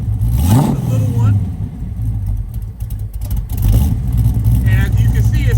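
Porsche 928 V8 engine with a small cam idling, a low rumbling growl up close with brief rises in revs, heard under someone talking over it.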